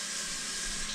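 A tap runs cold water for a hand wash in a kitchen, a steady close hiss of flowing water filling the moment alone.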